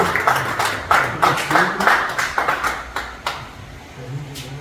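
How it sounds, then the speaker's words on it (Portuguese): A church congregation clapping to praise God during a worship service, a run of fairly loud, close, uneven claps that thin out and fade toward the end, with some voices underneath. "Não vai aplaudir o Senhor, não? Aplaude o Senhor."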